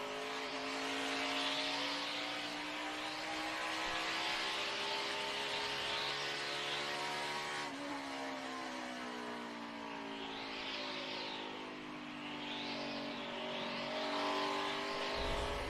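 NASCAR stock cars race through a corner at the 2018 Ticket Guardian 500 with a sustained, layered engine roar, several cars droning together and pitches sliding as they pass, moderately distant and continuous.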